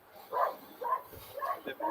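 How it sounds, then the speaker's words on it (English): A dog barks indoors several times at a household door, short sharp yaps spaced across the moment, moderately close, with people's voices around them. "That's their dog barking"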